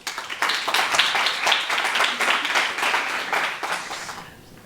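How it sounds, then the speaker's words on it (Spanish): An audience at a lecture claps together in sustained applause, loud at first and then fading away over a few seconds. "vamos a recibirle con un fuerte aplauso"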